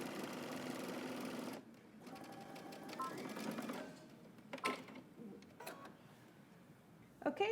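A sewing machine stitches a dress seam for a Simplicity 8639 dress, a fast even mechanical whir that runs steadily, then pauses, followed by fabric handling and a few soft clicks and thumps at close range.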